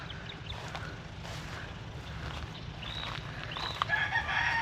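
A native chicken clucks faintly in the distance over a steady outdoor background hum in a vegetable garden, with a few short calls toward the end.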